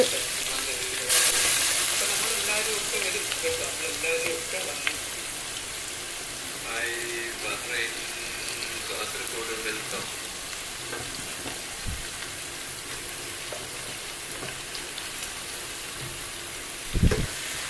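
Ground chili paste frying in oil in a pan on a gas stove, giving a steady close sizzle and hiss that runs throughout with a few faint clinks and knocks, while rain falls outside.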